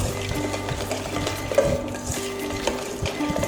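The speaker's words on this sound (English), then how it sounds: "whisking the ingredients together" Ingredients for a walnut financier tart batter whisked in a bowl: a continuous rapid scraping and tapping of whisk against the container, close and steady, with no talking.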